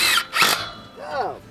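A power drill drives wood screws during a high tunnel build, giving two short, loud whirring bursts followed by a brief rising squeal as the screw seats, close by.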